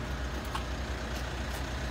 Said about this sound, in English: You might hear the car running at the moment as well.